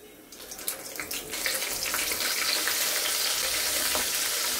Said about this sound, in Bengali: ছয় পিস একসাথেই ভেজে নিচ্ছি